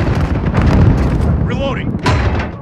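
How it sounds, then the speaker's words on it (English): A video game grenade explosion makes a heavy, rumbling boom, followed by bursts and whooshing effects in a busy combat soundscape. "Grenade out!"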